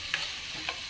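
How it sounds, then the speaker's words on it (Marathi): Chicken with lemon juice is stir-fried in a pan, giving a steady close sizzle with two brief scraping strokes of the spatula. "आता यात मी घालते लिंबाचा रस, आणि हे परतून घेते लिंबाचा रस।"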